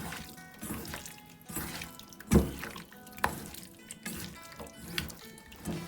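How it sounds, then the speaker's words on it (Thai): Oysters rinsed under a running kitchen tap, water splashing and dripping over shells in a sink, with uneven bursts of pouring and handling sounds, fairly close and moderately loud, no talk. "โอเคล้างน้ำออก"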